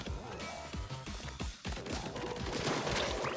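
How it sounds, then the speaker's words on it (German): Octo-Hopper enemies fire cannons in the Splatoon 3 video game, quick punchy shots and impacts stacked over dense game music and effects. "Oh, deren Kanonen sind fies."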